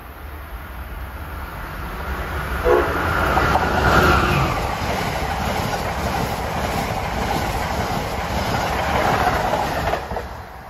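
Amtrak train 174 from Newport News, Virginia to Boston approaches through Mansfield, a steady loud rumble of rolling cars with clickety-clack wheel beats and a faint squeal, building and holding for the whole stretch.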